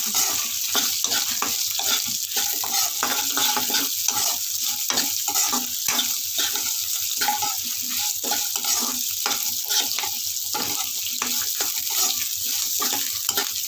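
Chopped onion pieces frying in a pan for an Andhra-style spinach onion dish, a steady close sizzle broken by repeated scraping stirs, with sharp, rhythmic clicks of the spoon against the pan.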